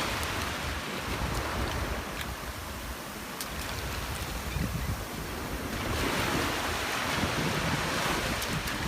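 Ocean surf washes steadily onto a shell beach, with wind buffeting the microphone throughout. The waves swell louder toward the end.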